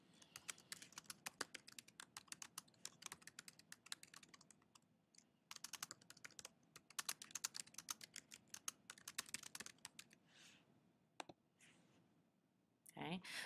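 Rapid clatter of typing on a computer keyboard, dense bursts of close keystrokes with brief pauses between runs, ending with a few isolated clicks.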